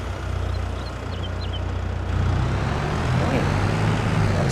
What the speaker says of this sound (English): And let me just jump in the tractor.